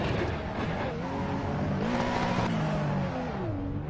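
A turbocharged, modified RUF CTR Yellowbird racing in Assetto Corsa, its engine droning loudly and continuously with pitch rising and falling as the throttle opens and closes, the sweeping revs dominating throughout.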